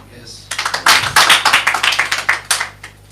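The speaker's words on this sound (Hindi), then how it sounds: "यहां ताली की जरूरत नहीं थी" Scattered clapping from a church congregation comes in short, uneven bursts that sound like a handful of people at close range, fading out before the end.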